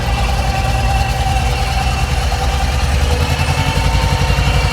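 A tractor engine revs steadily and loudly while working a field during soybean sowing, with a continuous low rumble and no pauses throughout.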